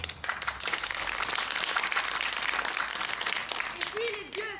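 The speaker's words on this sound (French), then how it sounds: "Ah oui, applaudissez la tour carrée." Audience applause for a square white tufa tower at a theatre rehearsal, a dense, steady wash of clapping that fills the whole stretch and tapers near the end, with a brief voice over it.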